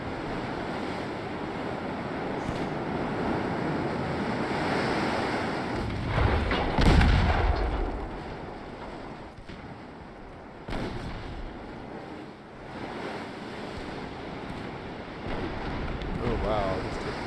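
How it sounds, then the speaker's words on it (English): A torpedo detonates at sea in the Sink the Bismarck naval video game, a deep low boom rising out of steady wind and wave noise and then fading back into the rolling ocean ambience. "this torpedo's detonated"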